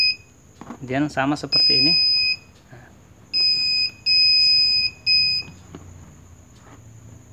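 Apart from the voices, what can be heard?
long beep from a universal car parking sensor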